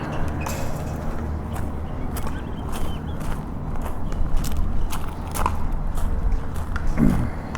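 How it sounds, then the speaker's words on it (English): Repeated crunching footsteps on gravel at an orange grove park in Mesa, Arizona, a steady walking rhythm of sharp gritty crackles, close and fairly loud over low outdoor rumble. "There's some gravel here, so we can hear some crunching."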